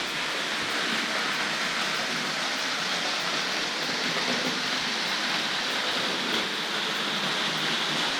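A Hornby model railway's King George locomotive and coaches run along the track with a steady, dense rushing clatter of many wheels, continuous and fairly close, with no talk.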